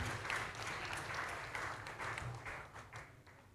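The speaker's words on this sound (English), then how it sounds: "Can we have a round of applause, please?" Conference audience applauding a speaker receiving a memento at a research workshop, steady broadband clapping from a crowd for the full length, moderately distant and fairly even in loudness with no talk over it.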